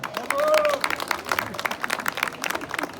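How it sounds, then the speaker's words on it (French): Brief applause for the dancers at a presentation of traditional headdresses at a folk dance event, scattered claps with a voice briefly rising over the start before the clapping thins out. "Vous pouvez les applaudir."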